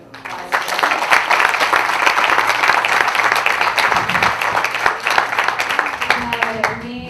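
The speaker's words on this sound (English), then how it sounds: "so let's have a round of applause" An audience at a horse show for riders with disabilities gives a sustained round of applause, many hands clapping loudly and evenly, with a voice and faint background noise near the end.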